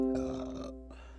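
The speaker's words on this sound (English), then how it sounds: "ain't mean to burp in y'all ear" A single short, gravelly burp close to the microphone, lasting about a second and sounding alone without any talk.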